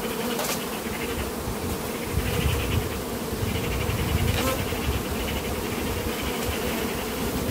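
Honeybees in a beehive produce a dense, continuous buzzing hum, close and steady throughout, with no talking.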